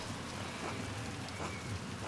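Steady, even rainfall from the video game Pentiment, a soft continuous hiss of drops on surfaces with no pauses, heard alone at a low, distant level.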